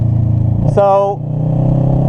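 Motorcycle engine droning steadily while riding, a low continuous rumble under wind, briefly overlaid by a short horn-like tone; a voice speaks over it.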